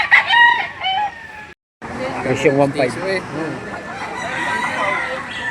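Roosters crowing at a chicken market in Lipa City, Batangas, on a rainy day, with several loud close crows rising over nearby people talking.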